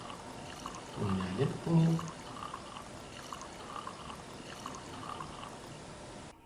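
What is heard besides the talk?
cooking oil being poured into a small pan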